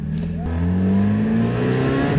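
A green Mazda Miata with a valved aftermarket exhaust, valves closed, runs steadily at close range, its engine drone rising gently in pitch as it pulls away, the tone fairly even and muted.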